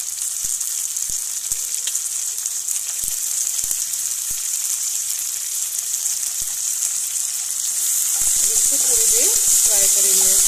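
Onion and capsicum frying in a pan for desi-style fried rice, a steady close sizzle with scattered stirring clicks, growing louder near the end as a voice speaks over it.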